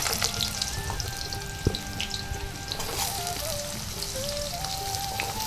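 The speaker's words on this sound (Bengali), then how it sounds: "আর গোটা জিরে এই যে ফোড়ন ভাজা হচ্ছে ফোড়নটা একটু সুন্দর ভেজে নিতে হবে" Whole cumin seeds fry in hot oil as a tempering for a vegetarian papaya curry, giving a steady close crackling sizzle with faint tonal clinks throughout and no voices.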